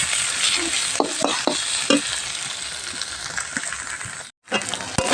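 Ghatkol stems fry with shrimp and crab in a pan, a bright steady sizzle punctuated by sharp spatula clinks and scrapes, with a brief gap before the frying resumes.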